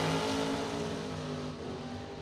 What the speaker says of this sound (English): Working the throttle already at the stripe.